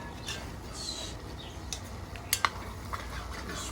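Squash frying with shrimp in a pan makes a steady, soft sizzle, with a few brief utensil clinks against the pan near the end.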